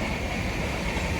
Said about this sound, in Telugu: ఈ ట్రైన్ వచ్చి స్లీపర్ క్లాస్ ఎక్కేసాం.